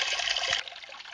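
Water rushing steadily through a drop riffle gold sluice, a close, continuous splashing flow with a brief surge partway through, no speech.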